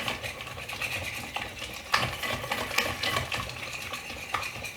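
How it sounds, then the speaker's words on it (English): Cake batter for a gluten-free rhubarb upside-down cake being stirred in a large bowl holding only a small amount, with steady scraping, clinking strokes of a utensil against the bowl, fairly close and alone. "I'm just going to give this a really good mix"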